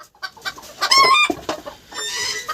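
A hen on a farmyard swing clucks in short, close bursts, with one longer, louder squawk in the middle and softer clucks around it, on a rural homestead in the evening.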